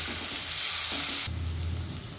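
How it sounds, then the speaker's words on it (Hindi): Onions frying in a pan over a medium flame, a steady close sizzle with a brief shift partway through as the pan is stirred, no voices. "प्याज को अच्छे से ब्राउन होने तक भूनेंगे और फ्लेम को मीडियम रखेंगे।"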